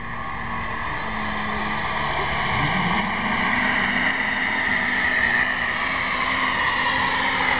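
A pulling tractor's engine roars loud and steady, its pitch climbing as RPM rises and boost builds, with a whining tone sweeping upward over a constant heavy drone close by.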